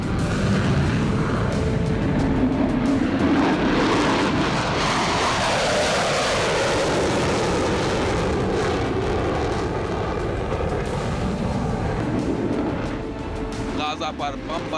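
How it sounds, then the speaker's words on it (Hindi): Israeli fighter jets over Gaza roar overhead in a loud, continuous wash of engine noise that swells and rumbles for the whole stretch, easing slightly near the end. "अब भी इजराइल के लड़ाकू विमान गरज रहे हैं।"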